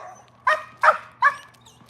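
A dog barks three times in quick succession, short and fairly close, against a quiet background.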